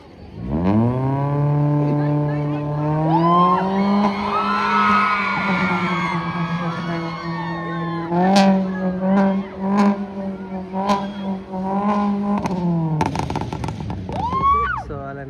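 A car spins its wheels at a college auto show drift event, its engine held at a loud, steady high-revving pitch for many seconds, while a crowd whoops and sharp pops and bangs break through near the end.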